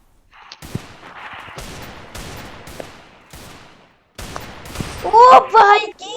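Gunfire in a video game custom match with a friend, landing a headshot: a series of sharp, loud shots and short bursts in quick succession, ending with a brief tonal burst of game sound.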